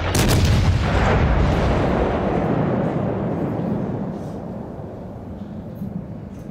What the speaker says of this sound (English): Anti-aircraft gun crews are on full alert.